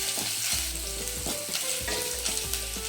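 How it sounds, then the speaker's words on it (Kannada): Ginger and garlic fry in a pan for a soya chilli dish, giving a steady, close sizzle with repeated scraping stir strokes throughout and no talking. "ಶುಂಠಿ ಫ್ರೈ ಮಾಡೋಣ."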